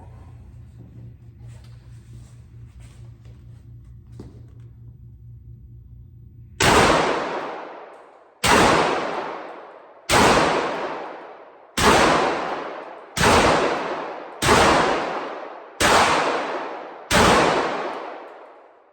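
A Beretta 1301 Tactical semi-automatic shotgun fires eight loud, sharp blasts spaced roughly one to two seconds apart, each decaying quickly, after a stretch of low steady background hum.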